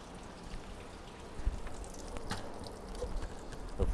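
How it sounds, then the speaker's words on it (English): Fresh water is poured over a Nissan Frontier truck battery, flooding the surrounding area with a continuous close splashing patter and occasional louder drips. "I just kind of like to pour the water over it"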